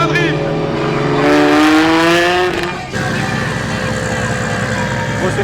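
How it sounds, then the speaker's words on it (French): A drift car at a night round of the French drift championship in Vesoul revs hard and climbs in pitch, then drops after a sharp break into a rough, steady engine roar, loud and close with crowd noise. "Vive le championnat de France de drift."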